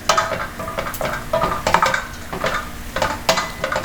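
Jackfruit curry with turmeric and chili powder sautéing in a pan, a utensil scraping and knocking against it in quick irregular strokes, close and fairly loud.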